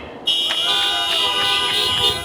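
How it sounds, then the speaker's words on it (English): Car horns honk at an outdoor Iowa Democratic spring fundraiser rally, one steady, bright blaring tone held for about two seconds with faint pulsing, loud and close. "I want to see waving hands or honking the horn."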